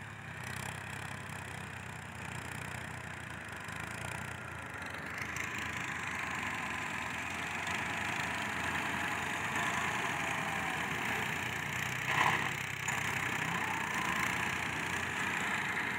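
A Massey Ferguson tractor, an MF 385 or 240, idles steadily at a construction site for a new colony, its low continuous engine hum holding even and moderately distant with faint background noise.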